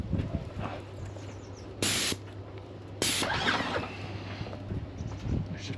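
Airless paint sprayer applying barn paint to a garden shed, two loud bursts of steady hissing spray about a second each, with a low motor hum running underneath throughout.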